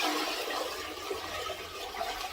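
Water from a bucket rushes down into a clogged toilet in one steady, fairly quiet pour with no talking.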